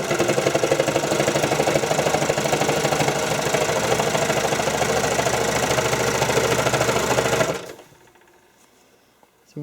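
A sewing machine stitches stretched elastic for figure skating soakers with a fast, even, close mechanical whir and patter that runs steadily, then stops abruptly and leaves near silence.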